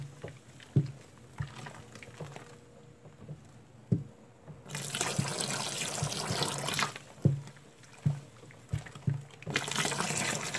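Ethanol, two litres of it, poured into a liquid glycerin soap mixture, giving a rushing, splashing liquid sound in two long bursts between quieter stirring knocks, with no talk.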